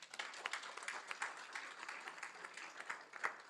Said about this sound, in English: round of applause for those two